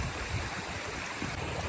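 A river on a riverfront trail in Blairsville, Pennsylvania rushes over slick rocks, a close, continuous broadband wash of moving water with no voices.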